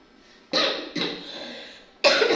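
Three harsh coughs close up from a person with flu and a sore throat, the first two in quick succession, then a pause before a final loud cough.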